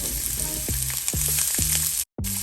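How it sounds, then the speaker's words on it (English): Shrimp sear in a hot, smoky pan just after being flipped, a loud steady sizzle with crackling pops, cut by a brief silent gap near the end before the sizzling resumes. "We're going to flip the shrimp over"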